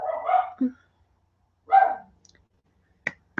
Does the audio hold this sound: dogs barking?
yes